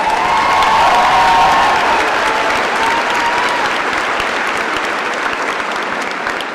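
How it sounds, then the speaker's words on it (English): Loud, sustained applause from a large audience at a Lake Central high school graduation ceremony for the Class of 2022, with scattered cheers and whistles over constant clapping. "Please give this outstanding class a round of applause for all of these tremendous accomplishments."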